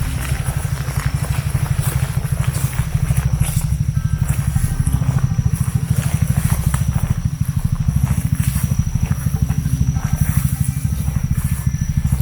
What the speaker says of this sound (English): And now we're hearing idling.